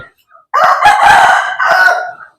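A rooster crows loudly and close by in a long drawn-out call with a brief break near the end, on a Thai fighting-cock farm, with no talk over it.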